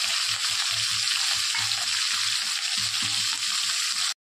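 Curry leaves, tomato and a little coriander sizzle in a hot pan for Marathi-style dry cluster bean stir-fry, with a loud steady frying hiss and soft bubbling throughout, cutting off abruptly near the end.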